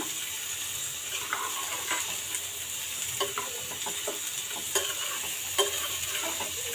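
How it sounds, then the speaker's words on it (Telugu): Rice and water for mutton biryani are stirred in a pot over steady bubbling sizzle. A spoon scrapes and clinks lightly against the metal at intervals, close up and continuous, with no talking. "ఇప్పుడు అంతా ఒక్కసారి బాగా కలిపేసుకుందాము"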